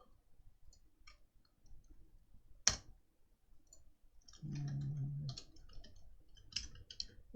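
Typing on a computer keyboard, heard as faint scattered clicks and taps close by with a single sharper click, plus a brief low hum partway through.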